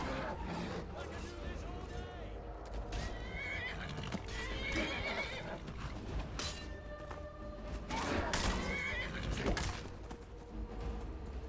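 A horse neighs and whinnies while hooves clop along, game sound effects mixed with a person talking over them.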